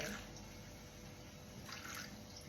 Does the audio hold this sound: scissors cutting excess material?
no